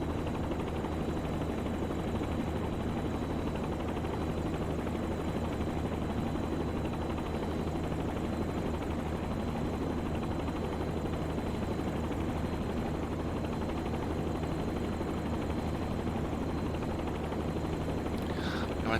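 Helicopter in flight during a training lesson over Scotland, a loud, continuous rotor and engine drone that stays even for the whole stretch, with no talking.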